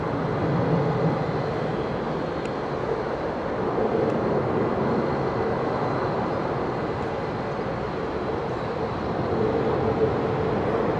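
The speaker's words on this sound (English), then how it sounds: "the stubby little 800 variant of the Dreamliner" Air India Boeing 787-8 Dreamliner, the short variant, departing Heathrow runway 27R; a steady broad jet roar holds throughout, swelling slightly at times, mid-distance and continuous.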